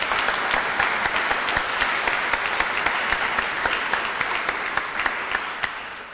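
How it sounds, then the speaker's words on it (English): Audience applause of thanks for the speakers at an ethics and responsible conduct panel, steady dense clapping across the room with no talk, tapering slightly at the end. "I would like to ask you to join me in a round of applause of thanks for our speakers."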